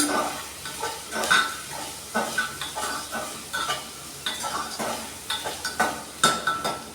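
Onion and potato fry in a pan with garlic added, a soft steady sizzle broken by repeated scraping and clinking as the mixture is stirred, close and moderately quiet.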